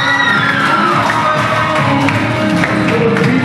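An audience in a school hall at a GIBS Lower Dir award show welcomes the principal, a loud, dense crowd noise of clapping and cheering that fills the whole moment without letup.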